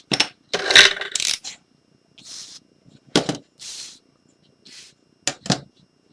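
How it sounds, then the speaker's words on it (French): Scissors cut through a clear plastic sheet to make a pouch, giving several short crisp snipping bursts with brief pauses between them, close and fairly loud with no talking. "Et on va découper de là à là, à là, à là, à là."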